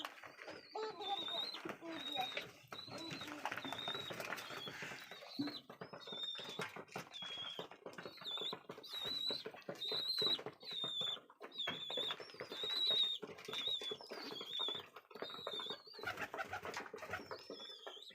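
Pet pigeons of a beefy breed cooing close by, repeated soft rolling coos in a steady rhythm throughout, with someone talking over them.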